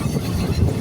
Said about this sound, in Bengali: ডুয়ার্সের জঙ্গলের ভেতর দিয়ে আমাদের ট্রেন ছুটে চলেছে।